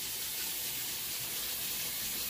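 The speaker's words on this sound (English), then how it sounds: "rinse your hands off" Hands rinsed under a running kitchen tap, a steady faint hiss of flowing water splashing without pause.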